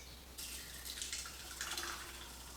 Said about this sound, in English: I'm gonna go ahead and pour this through to strain it.